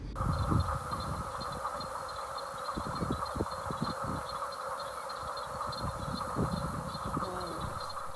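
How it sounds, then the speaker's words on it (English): Frogs call from a swampy area on Fraser Island, a dense, steady chorus of buzzing, pulsing calls with scattered louder croaks nearby. Nobody speaks over it. "we happened across this little swampy area where the frogs were going off"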